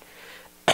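A single short, sharp cough from a man, abrupt and close after near silence.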